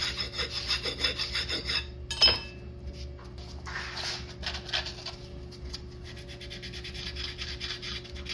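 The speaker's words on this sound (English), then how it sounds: "I'm gonna basically just gently hit this surface that contacts the shim with a file" Metal file rasping across the shim contact surface of a 2018 Chevy Bolt differential, a quiet scraping rub in light strokes with a brief clink partway through, no voices.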